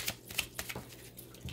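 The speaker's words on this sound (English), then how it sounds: "One more shuffle." A tarot deck is shuffled by hand in quick, uneven bursts of crisp card riffles and taps, close and fairly quiet with no voice over it.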